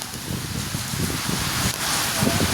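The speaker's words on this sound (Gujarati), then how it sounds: "કેટલો બધો વરસાદ આવે છે" Heavy rain pours down with gusting wind in a village in Gujarat, a steady, dense broadband wash with low rumbling buffets of wind noise throughout, no voices.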